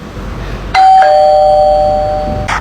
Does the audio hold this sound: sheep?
no